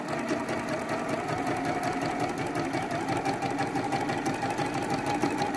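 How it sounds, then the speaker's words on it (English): A sewing machine runs nonstop in a fast, even mechanical patter, close and fairly loud, chain piecing quilt fabric sections without pause. "This is us chain piecing all of these sections all at one time at the sewing machine."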